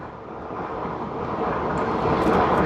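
Helicopter in the video game Battlefield 3, a steady broadband engine and rotor roar that holds constant and swells slightly louder over a few seconds, with no speech over it.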